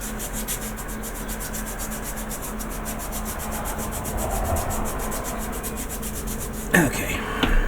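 Rhythmic back-and-forth sanding strokes on a plastic model part for a USS Franklin starship kit, close and steady, ending with a sharp knock.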